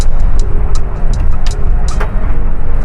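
A car passes at night on the rural Kendaga-Karangkobar road in Indonesia, heard as a loud, steady engine and road rumble throughout, with light ticking noises on top.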